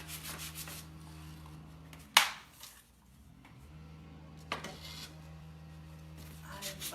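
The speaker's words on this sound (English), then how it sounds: "Pulling more of the wood through, makes it look extra weathered." Painted wood is sanded back to expose bare grain for a weathered look, soft, quiet rubbing strokes with one sharp scrape, and a low hum in the background.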